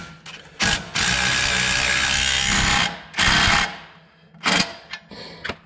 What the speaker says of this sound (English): Now we can tighten our big bolt.